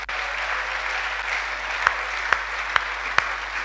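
Congregation applauding in church, a steady wash of clapping with a few sharper claps standing out near the end, no speech over it.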